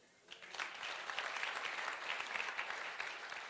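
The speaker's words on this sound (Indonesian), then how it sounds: "Tepuk tangan dong." A church congregation breaks into applause during a sermon, the clapping starting after a brief pause and continuing as a steady, moderately distant patter for about three seconds.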